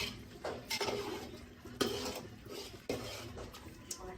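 Natu kodi pulusu, a country chicken curry, is stirred in a pot, with a spoon scraping and clinking against the metal several times over a low simmering background; no one speaks.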